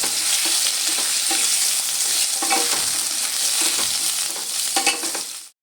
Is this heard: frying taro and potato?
yes